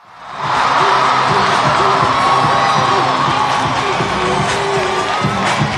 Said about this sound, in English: And you continue to hear the cheers from the crowd.